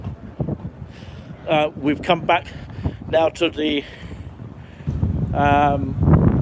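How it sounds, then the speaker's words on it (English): Gusty wind outdoors in Cambridge buffets the microphone with low rumbling bursts while someone talks over it, the roar swelling louder toward the end. "Sorry about the wind here, it's getting up very, very much here."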